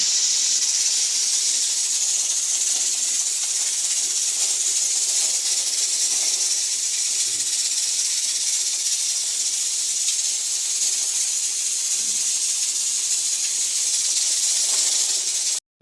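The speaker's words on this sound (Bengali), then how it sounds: "আমার মাংসটা আমি প্রেশার কুকারে বসিয়ে দিয়েছি" A pressure cooker holding beef gives off a long, unbroken hiss of escaping steam, steady and fairly loud with no voices throughout.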